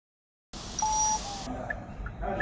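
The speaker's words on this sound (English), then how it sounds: "1 beep. Program complete." A short electronic beep from a Lonsdor K518 Pro key programmer, confirming smart key programming on a 2014 Peugeot 2008, rings out clearly over a steady background hum, with faint murmuring afterward.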